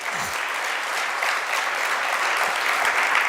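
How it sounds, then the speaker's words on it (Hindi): A seated congregation at a Jain monk's sermon claps steadily, a thick, even patter of many hands sustained at close range for the whole stretch, with no voices standing out. "आप उनके पुण्य में तालियां जरूर बजा दीजिए"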